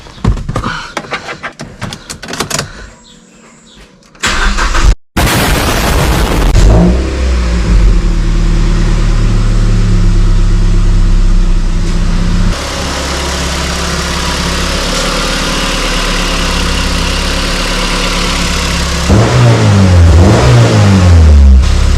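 Mazda MX5 engine cranking and firing up after a service, then idling loudly close by with several rising revs, including a sharp rev burst at the end.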